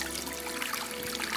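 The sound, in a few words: water running from an ablution tap being opened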